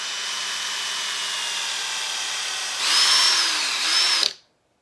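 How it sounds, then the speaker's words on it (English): Power drill spinning a 370 reamer bit through a plastic golf club ferrule, a steady close whine that rises in pitch and loudness as the bit bites, then stops abruptly. "you take your 370 reamer bit, you take your ferrule, and you just hold it"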